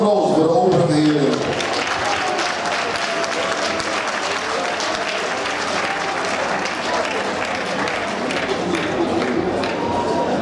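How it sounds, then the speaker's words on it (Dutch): An audience claps loudly and steadily at a bodybuilding competition, a Men's Athletic Physique prize ceremony at the Open Limburg Championship, while an announcer speaks briefly at the start. "En een groot applaus voor de overige heren."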